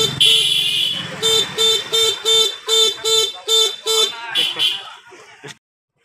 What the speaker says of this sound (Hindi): इसका हॉर्न एकदम पूरा चन चनाचन बजेगा